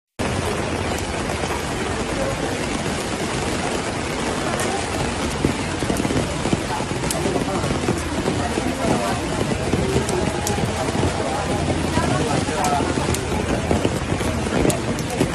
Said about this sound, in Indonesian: Hujan lagi, Pak.